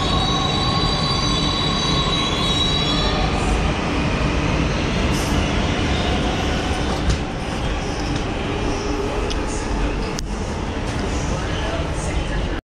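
A Delhi Metro train at a station, wheels squealing loudly with a rumbling, steady roar of rail cars running close by for a long stretch, and a voice speaking under it.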